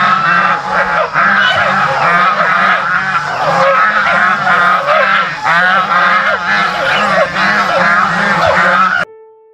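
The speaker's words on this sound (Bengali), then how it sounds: "হঠাৎ করে একদল রাজহাঁসের ক্যাঁচর ম্যাচর শুনতে পেলাম।" A flock of geese honks continuously at a lakeside in the hills near Ranikhet, many overlapping calls close by and loud, ending abruptly with a brief tone.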